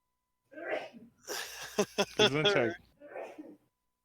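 A single forceful sneeze, preceded by a quick sharp inhale and followed by a short breathy exhale, close to the microphone.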